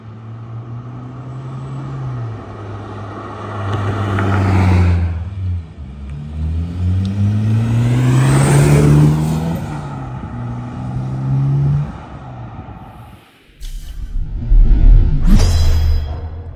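A Honda S2000 with a quiet exhaust revs up under boost, the engine rising and falling in several long pulls, then dropping briefly before a final loud burst of revving close by.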